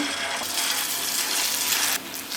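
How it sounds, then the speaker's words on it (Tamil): Small spoonfuls of rice and potato batter dropped into hot oil, giving a steady, fairly loud hissing sizzle that holds throughout and thins out slightly near the end, with no voices. "இப்போ ஆயிலில் சின்ன சின்னதாக விட்டுக்கலாம்"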